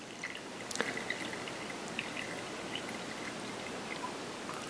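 Water pours into a pipe apparatus set up for a home natural-convection heat-transfer lab, a steady hissing stream with scattered drips and small splashes.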